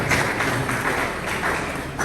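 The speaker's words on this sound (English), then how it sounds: "Give a round of applause to the MD of the morning" An audience claps at a leadership engagement event in Rumuolumeni Kingdom, a dense, steady wash of applause filling the short moment without a break, moderately loud and close.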